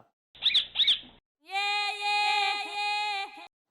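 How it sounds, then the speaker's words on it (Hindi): A parrot's harsh, bleating squawks: two short cries, then a long sustained nasal call, loud and close with no other sound. "अरे आजाद, ये है हमारा आजाद तोता।"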